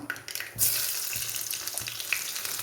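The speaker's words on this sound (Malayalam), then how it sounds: "കടുക് പൊട്ടുന്നുണ്ട്" Mustard seeds splutter in hot oil in a pan while cooking a roasted-coconut curry, a dense close sizzle with scattered sharp pops and crackles throughout.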